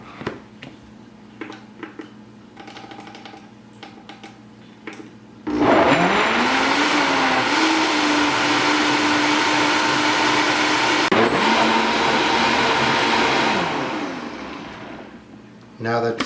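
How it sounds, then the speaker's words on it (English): A blender whirs loudly at high speed through roasted tomato sauce, starting abruptly after some quieter moments, holding a steady roar with a brief shift in pitch, then winding down at the end. "we're going to blend it on a high speed until it's nice and smooth"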